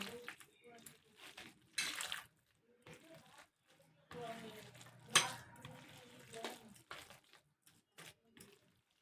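Young bottle gourd, grated, mixed and mashed by hand: soft, wet squelching and squishing in irregular bursts, close up, with someone talking at times.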